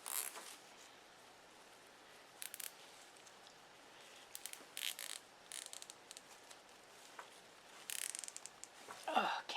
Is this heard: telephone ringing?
no